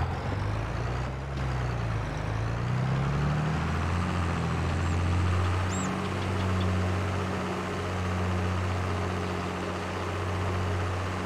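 A tractor engine in Farming Simulator 22 drones steadily at a low pitch and idles, with a slowly wavering rumble throughout. A brief hiss partway through could be an air release. No one talks.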